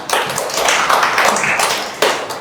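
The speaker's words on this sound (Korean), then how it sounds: "네, 박수 한번 그럼 주세요." A church congregation gives a short round of applause, a brief burst of many hands clapping that swells and fades within about two seconds, with a final sharp clap near the end.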